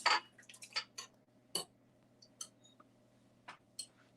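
A spatula works yogurt and vanilla cake batter around a mixing bowl for a Christmas plum cake, giving quiet irregular clicks, taps and wet scrapes against the bowl.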